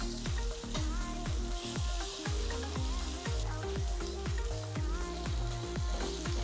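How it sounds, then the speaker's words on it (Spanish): Beef meatballs sear in olive oil over medium heat, a continuous close frying sizzle running under a loud rhythmic pulsing music track that plays throughout. "Y vamos a poner nuestras albóndigas. Esto lo vamos a sellar a fuego medio."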